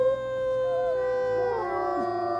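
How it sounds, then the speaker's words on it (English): Wolf named Cole howling in the video game WolfQuest: a sustained, wavering tonal howl with bending pitch runs through the whole stretch, loud and clear over a faint background. "That was Cole's howl."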